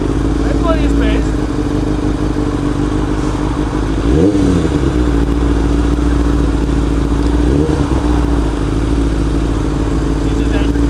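A motorcycle engine hums steadily and loud nearby on a road, swelling into two short revs partway through, with a droning mechanical undertone throughout.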